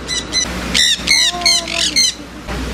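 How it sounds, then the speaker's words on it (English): Loud, harsh squawks from a sun conure, several shrill bursts in quick succession close by, with no talking over them. "one of her favorite birds here, guys, is the sun conure"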